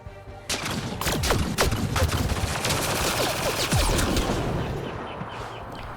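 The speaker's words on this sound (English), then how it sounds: "Who's shooting at us?" Gunfire in the video game Mass Effect Andromeda, rapid bursts of sharp shots and crackling fusillade layered over a steady background hum, loud and close for most of the stretch.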